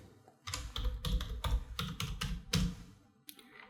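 Keys clatter on a computer keyboard in a quick burst of close, crisp clicks, pausing briefly before a final tap, with no talking.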